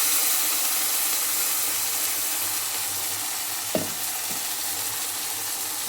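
Tomato paste fries in a pan for a field-bean curry, a steady close hiss with one brief clink and scrape of stirring partway through, no talking.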